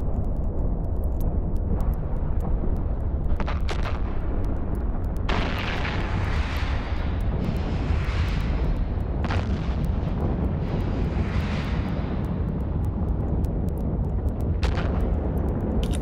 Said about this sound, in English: Did he start shooting Loyi?